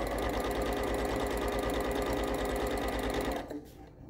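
A Juki sewing machine stitches fabric in a fast, steady mechanical whir with a rapid needle rhythm, loud and close, then stops abruptly near the end.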